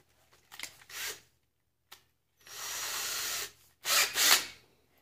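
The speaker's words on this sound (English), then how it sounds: "we're gonna drill this hole out, but we're not gonna drill it all the way through" A drill bores a hole partway into a Rustler RC transmission gear in three short bursts separated by pauses, the last two longer and harsher, with quieter handling clicks between.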